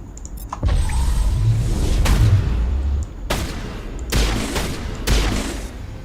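Sustained automatic gunfire with fire rounds in Mass Effect: Legendary Edition, rapid bursts of loud, close shots broken into several separate volleys with short gaps, without any talking.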